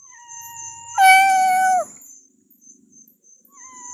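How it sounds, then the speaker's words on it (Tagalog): Outdoors near a cemetery gate, a cat gives one clear, loud meow lasting close to a second, with faint insect chirping and quiet rustling around it. "Ito yung mga pusa mo no."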